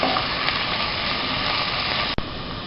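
Onions and curry leaves sauté in a pan for Kerala-style fish molee, giving a constant close hiss of frying with a brief clatter just before the end.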